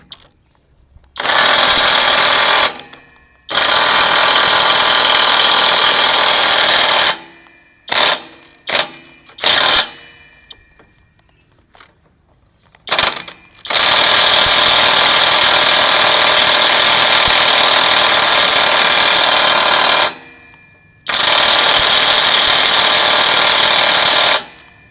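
A Tanzu TZ-IW 1000 cordless impact wrench with a fault hammers loudly in bursts of one to several seconds, cutting out abruptly between them with short stuttering blips and brief silences.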